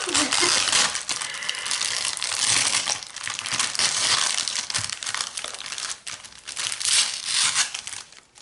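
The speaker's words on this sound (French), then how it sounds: "je vais devoir déchirer pour récupérer les boosters" Close, continuous crinkling and tearing of a heavily taped paper envelope holding card boosters, with rough ripping bursts and crackles that rise and fall for several seconds.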